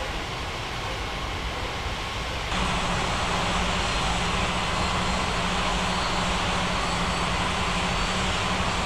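A jet airliner taxiing in the air traffic control game Unmatched Air Traffic Control gives off a steady, loud engine roar that swells to a fuller, constant hum partway through, with no voices.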